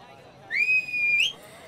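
A single clear whistle from a scene in a Hindi-dubbed South Indian action film: one sustained, steady high note held for under a second that bends sharply upward at the end, over a quiet background.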